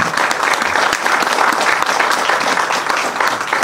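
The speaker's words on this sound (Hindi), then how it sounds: "पुरजोर तालियों के साथ डॉक्टर काउंसलर बख्शी" Loud, continuous applause from an audience at a college event in Baramulla, many hands clapping in a dense, even roar throughout.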